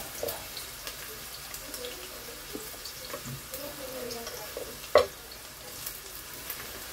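Chopped onions fry in oil in a pan in a home kitchen, a soft steady sizzle with faint scraping and stirring sounds and one sharp knock partway through.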